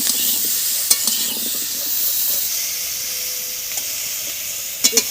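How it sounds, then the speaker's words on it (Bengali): Piring greens with turmeric fry in a pan, giving a continuous close sizzle with scattered sharp clinks and scrapes as the greens are stirred. "হলুদ দিলাম, পিড়িং শাক দিলাম, দিয়ে একটু ভেজে নিচ্ছি।"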